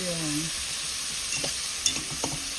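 Food sizzles steadily in a hot pan while a pasta dish is being cooked, a constant close frying hiss broken by a few sharp utensil clinks toward the end.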